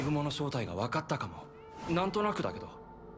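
A cat meows in a video game, two clear drawn-out meows with rising and falling pitch, close and fairly loud, separated by a short pause.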